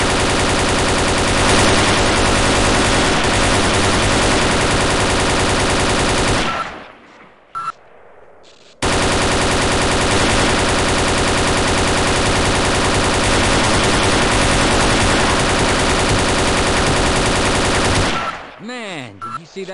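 Gunfire in the Half-Life Time Fall mod game: long sustained bursts of rapid automatic fire, loud and close, broken by a brief pause, then another extended volley that cuts off near the end.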